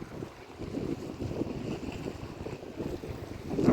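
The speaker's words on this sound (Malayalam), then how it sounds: "ഒരു വള്ളം ഓടി വരുന്നു അതിൻ്റെ പിന്നിൽ ഒരു ചെറു വള്ളം കെട്ടിയിട്ടിട്ടുണ്ട്" A fishing boat engine, the boat towing a smaller boat, rumbles steadily over the open sea off the Thottappally landing centre in Kerala, mixed with gusty wind buffeting the microphone and a faint wash of waves.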